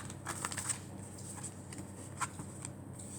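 Tarot cards slap and slide onto a table as a second row is dealt, a few crisp flicks and soft swishes up close, separated by quiet pauses.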